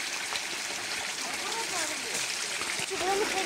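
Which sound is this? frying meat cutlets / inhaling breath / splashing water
splashing water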